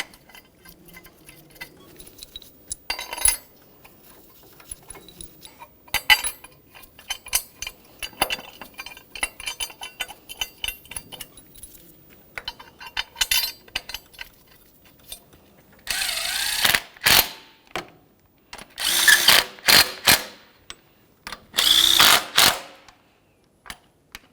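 Valve cover mounting bolts on a 2012-2018 Nissan Altima 2.5L engine being tightened, heard as quiet metallic ticking and clinking that grows into several louder bursts of ratcheting near the end, with no talk.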